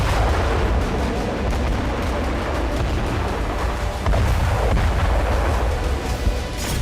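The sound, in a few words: BM-21 Grad rocket launcher firing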